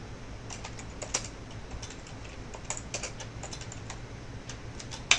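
Typing on a computer keyboard, a run of light irregular key clicks close by at moderate volume, with a sharper tap at the end and no speech.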